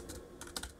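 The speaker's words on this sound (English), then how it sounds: "I'm going to delete this and start typing in what I need in here" Quiet, close typing on a computer keyboard: a few quick clusters of key clicks over a steady room hiss, with no voices.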